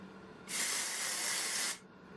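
Hair styling product sprayed from a can makes a single close hiss of just over a second, starting and stopping abruptly against a quiet room.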